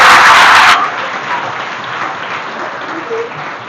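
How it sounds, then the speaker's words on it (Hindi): Loud applause from schoolchildren for their school madam, opening with a burst of vigorous clapping that cuts off sharply after under a second, leaving a quieter room tone. "एक बार अपने स्कूल की मैडम के लिए जोरदार तालियां बजा दो।"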